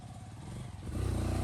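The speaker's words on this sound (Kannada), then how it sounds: "ಗಾಡಿ ಬಂತು ಬಿಡು" A motorcycle arrives on an off-road trail in a dark forest near a waterfall, its engine growing louder and nearer with a rough, throbbing rumble toward the end.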